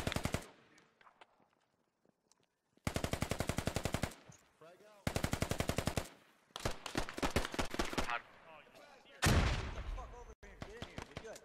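Rapid automatic gunfire in the Squad video game, loud bursts of machine-gun fire in several strings separated by short pauses, with a sharp blast near the end.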